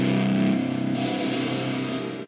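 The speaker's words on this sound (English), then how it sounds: "Let's try the hybrid reverb." A distorted thrash metal guitar chord rings out through Ableton's hybrid reverb, loud and sustained with a thick wash that fades out after about two seconds.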